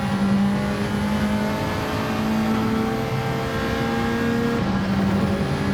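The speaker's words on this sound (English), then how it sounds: "Listen to that Ferrari engine" A Ferrari race car engine holds a loud, steady high-pitched drone near and constant throughout, with a slight pitch dip toward the end as it revs on track.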